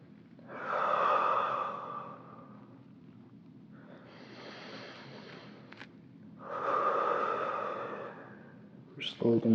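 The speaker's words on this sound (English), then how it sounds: "Big breath in" Two slow, deep breaths drawn in and let out during a child's pose stretch, each a long, airy rush of air, close and fairly loud, with quieter breathing between them.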